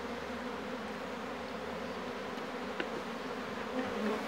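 A populous swarm of Apis honey bees buzzes steadily around an open hive during an inspection, a close, dense drone throughout with a few faint knocks.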